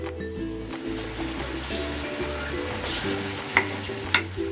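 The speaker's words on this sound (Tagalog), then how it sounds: "I-simmer natin ito for 15 to 20 minutes." Chicken adobo simmering in a pan, with a steady low bubbling and sizzling under a constant background hum and a couple of sharp clinks near the end.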